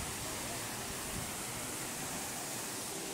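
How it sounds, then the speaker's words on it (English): Steady, broadband rushing of a waterfall in the Waikolohe Valley at the Aulani resort in Hawaii, a constant even roar with no breaks or talk. "There's the waterfall"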